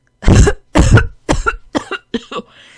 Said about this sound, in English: She coughed again